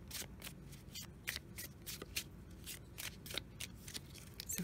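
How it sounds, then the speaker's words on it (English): Gypsy fortune-telling cards being shuffled and drawn by hand, a steady run of crisp riffling flicks and soft slaps repeating close up for several seconds, with no talking. "Let's draw a few of the Gypsy fortune cards."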